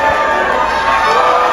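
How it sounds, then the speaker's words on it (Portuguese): Football crowd of Flamengo supporters singing a protest chant in a stadium before a match against Coritiba, a dense roar of many voices blending continuously with no single voice standing out. "E a torcida começa a protestar,"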